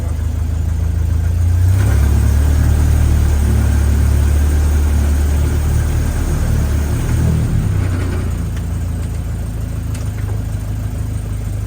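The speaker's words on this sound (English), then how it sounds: "Let's reverse again. Give a second a go. We're in low box anyway" A Land Rover Lightweight engine running steadily while the vehicle reverses in low box, a loud low rumble that swells slightly in the middle and then eases off.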